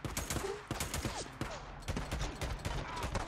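Rapid gunfire in the video game Days Gone, a dense burst of sharp shots and automatic rattling in quick succession, close and fairly loud, with faint speech underneath.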